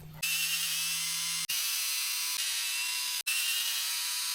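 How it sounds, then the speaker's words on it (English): A small electric driver with a 2mm bit whirs steadily while backing screws out of a Redcat Ascent RC crawler chassis and its plastic battery housing, a continuous close buzz broken by two brief stops. "We're going to take those 4 screws off and just remove this whole thing."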